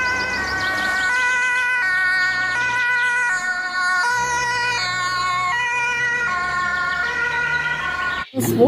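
A toy ambulance plays an electronic siren, a stepped melodic wail that repeats through the clip. It is loud and near and ends with a sharp click.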